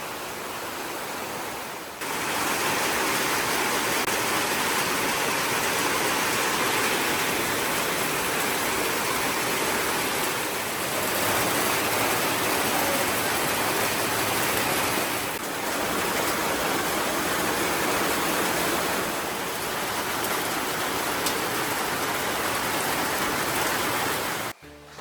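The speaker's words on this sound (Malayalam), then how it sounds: "മഴ പെയ്തു ഗൈസ്, മഴ." Rain falling steadily outdoors, a dense, loud, continuous hiss that holds evenly for most of the stretch after a quieter start, with no talk over it.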